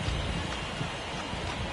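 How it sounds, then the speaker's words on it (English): Steady rain pours down over a baseball game in MLB The Show 23, a dense, even hiss of drops that holds constant throughout with no break. "This rain is not letting up."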